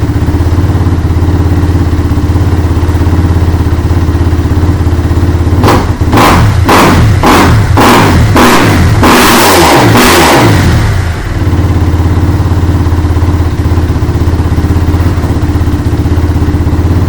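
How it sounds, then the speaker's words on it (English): A fuel-injected dirt bike engine idles loudly and close, then gives a quick series of sharp throttle blips that build into a longer roaring rev before dropping back to a steady idle. "These fuel injected bikes don't take very long to warm up at all."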